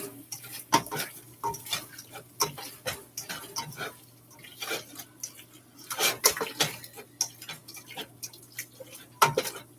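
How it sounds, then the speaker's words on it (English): Beef is stirred in a pot for a Vietnamese bò kho stew, with irregular clinks and scrapes of a utensil against the pot and soft sizzling under a faint steady hum. "I'm gonna stir up the beef a little bit more here."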